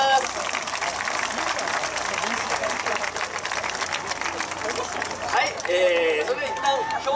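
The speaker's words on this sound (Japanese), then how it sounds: "表彰時の10チームにもう一度温かい拍手をお願いします" Applause from an outdoor audience at a YOSAKOI Mizuma 2019 festival award ceremony, honoring ten prize-winning dance teams; dense, steady clapping with crowd noise runs throughout, and voices speak near the end.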